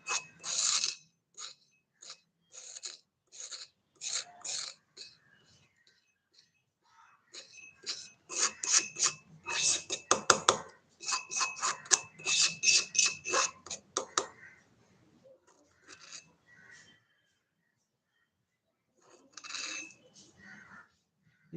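A rare earth sample is ground into powder, giving bursts of dry rasping and scraping strokes in clusters, fairly close and moderately quiet, separated by pauses.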